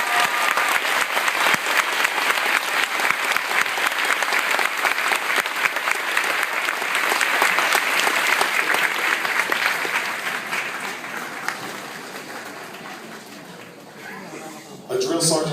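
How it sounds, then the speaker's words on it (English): A crowd at a Fort Jackson family day applauds soldiers, with dense, steady clapping that gradually fades over the last few seconds. "please give these soldiers a round of applause"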